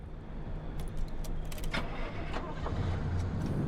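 A car engine cranks and starts in Pacific Drive, a low steady rumble settling into idle with a few short clicks on top, fairly quiet and heard alone.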